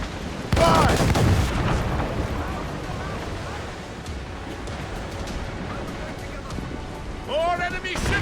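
Naval battle in Assassin's Creed Rogue against French gunboats and fire ships: a heavy ship cannon blast booms early, followed by crashing sea and battle noise, with shouted voices near the start and again at the end.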